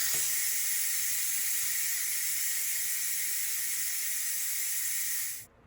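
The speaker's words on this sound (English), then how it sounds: "you're going to want to switch your pressure valve to the vent position. It's a little noisy here," Steam vents from a pressure cooker's release valve in a steady, loud, close hiss that holds for several seconds and then cuts off abruptly.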